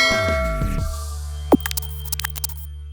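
A subscribe-bell sound effect: a bright ringing bell tone that decays, then a sharp click and a few quick, light ticking chimes.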